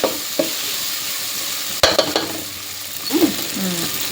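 Rice for a North Karnataka-style pulao frying in a pan, a soft continuous sizzle with a few sharp clatters and scraping stirs of a utensil against the pan.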